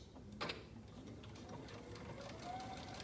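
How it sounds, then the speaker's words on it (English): A home sewing machine runs steadily, stitching straight side seams on women's pajama shorts with elastic in the waistband, a low, even mechanical whirr at moderate volume with a faint click near the start. "sew on the side seams with a straight stitch"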